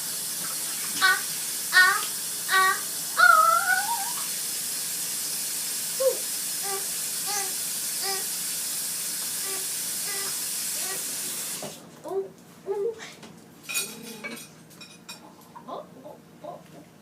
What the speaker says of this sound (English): There's something wrong with my sprayer.